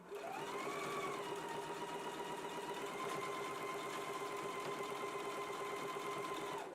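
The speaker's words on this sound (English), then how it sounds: "Let's go ahead and do the basting stitch now" A sewing machine runs a basting stitch on fabric, a steady continuous mechanical whir with a constant hum, quiet and unbroken from start to finish.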